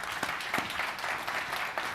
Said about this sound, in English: A big round of applause for Peter.